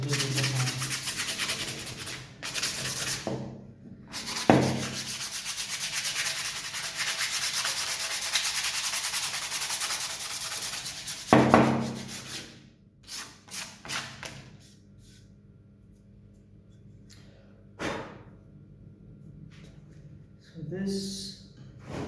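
Hand sanding of charred, burned wood for a shoe rack, a steady close abrasive rubbing that runs in long strokes and then breaks into shorter scrubbing passes with a few knocks.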